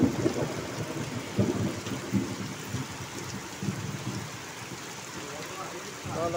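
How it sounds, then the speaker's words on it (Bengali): Heavy rain pours down in Tehatta, Nadia, a dense continuous hiss of rain on surfaces with a few low rumbles and thumps underneath. "কঠিন বৃষ্টি"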